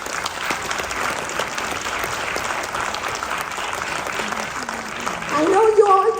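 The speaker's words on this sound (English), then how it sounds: "We would like to recognize our large pledgers. Please give a round of applause." A crowd at an annual community event applauds large pledgers, steady dense clapping throughout that swells near the end as a voice begins speaking.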